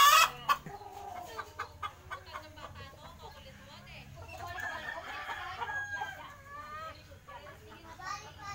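Hens and roosters cluck busily around their nests in a Philippine backyard coop. A steady stream of close, overlapping clucks and squawks continues throughout, with a short loud burst at the start and occasional crowing-like calls.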